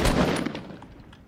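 Gunfire in a Fortnite Battle Royale match, a loud close burst of rapid shots at the start that quickly trails off into fainter echoing rattle.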